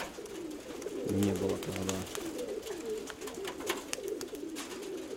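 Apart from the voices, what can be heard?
pigeons cooing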